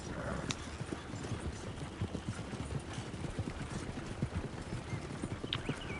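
Horse hooves clip-clop steadily as a horse-drawn wagon rolls along in the Red Dead Online video game, a dense continuous patter of hoofbeats with a brief neigh and faint talk in the background.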